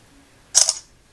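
A phone camera app fires a single short synthetic shutter click, a crisp burst lasting about a quarter second, close and fairly loud against near silence.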